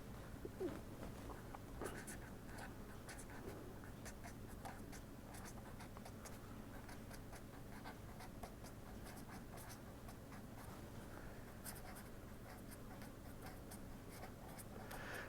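Chalk or marker scratching and tapping on a board during a heat transfer lecture, a faint irregular patter of strokes in a quiet room, mostly alone with little talk.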